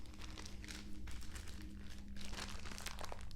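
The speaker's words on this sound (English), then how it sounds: "So I'm going to take that bag, fold it over a couple times" A plastic bag for a trauma response kit being folded over a couple of times, giving a steady close crinkling and crackling of thin plastic for a few seconds.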